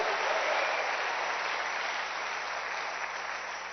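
A church congregation claps steadily through a worship service, dense broadband applause holding at an even level for several seconds and easing slightly toward the end, with no voices over it.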